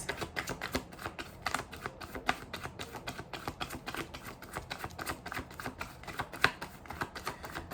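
Tarot cards are shuffled by hand with quick, uneven flicks and soft clicks that keep going at a fairly quiet level.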